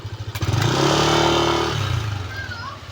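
A small motorbike engine running close by, a steady mid-pitched drone that rises in the middle as if revving, then settles back to idle; no talk over it.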